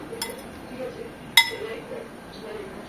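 A spoon mixes pineapple mash with chili in a bowl, giving two sharp metallic clinks about a second apart over a soft background of quiet scraping.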